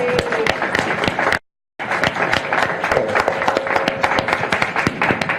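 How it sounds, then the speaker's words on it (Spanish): Audience applause for a guest at a live talk event, a steady wash of many hands clapping, loud and close, briefly cut to silence before resuming. "Yo sí quisiera darle un aplauso por la valentía."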